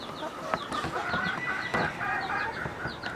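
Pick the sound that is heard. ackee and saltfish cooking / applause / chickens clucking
chickens clucking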